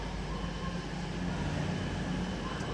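East Midlands Railway train pulling out of Nottingham station, a loud, steady rumble and hum of the moving train heard close, with no voices.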